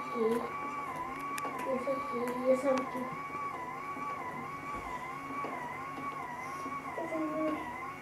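A small kitten meows repeatedly in thin, wavering cries at a close but fairly quiet level, against a steady background.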